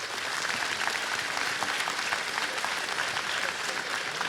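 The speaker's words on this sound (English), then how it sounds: "Let's give them a big warm round of applause." A crowd at a game developer conference applauds the Playtonic team, a dense, steady wash of many hands clapping that holds evenly loud throughout with no talk over it.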